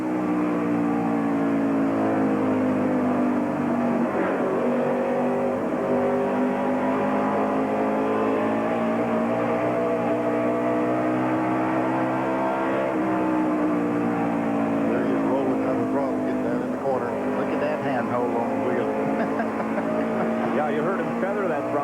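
Mark Martin's stock car lapping during the 1992 Goodwrench 500, recorded from inside the cockpit: a loud, continuous engine howl whose pitch rises and falls through the corners and straights for the whole lap.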